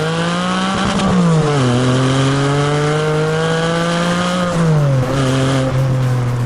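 A Porsche 718 Cayman GTS 4.0 sports car engine roars at high revs nearby, its pitch climbing and dipping through gear changes, loud and continuous.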